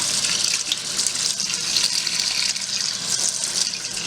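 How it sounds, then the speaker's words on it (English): A tap runs hot water steadily into a sink as the end of a homebrew tube is held under it, a close, loud, continuous splashing rush with no talking. "Run it under hot water."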